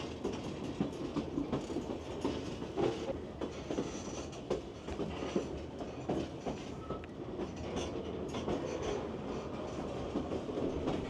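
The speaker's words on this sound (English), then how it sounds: "as the train winds its way through the peaks and valleys of this" Alaska Railroad train rolling through mountain valleys, a steady dense rumble of wheels on rails with faint clacks and occasional squeal, continuous and moderately close for the whole stretch, no voices.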